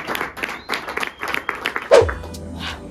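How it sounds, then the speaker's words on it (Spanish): A small audience at a music listening party claps in scattered, uneven bursts, close by, with a voice briefly heard near the end. "Un aplauso."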